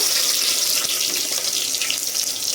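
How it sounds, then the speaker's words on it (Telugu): Chopped onions sizzle in hot oil for a mango pulao, making a loud, steady, close hiss that crackles faintly throughout, with no speech. "ఆయిల్ వేడి ఎక్కిన తర్వాత ఇప్పుడు మనం ఆనియన్స్ వేయాలి వేడిగానే ఉంది నేను ఆనియన్స్ వేసేస్తున్నాను"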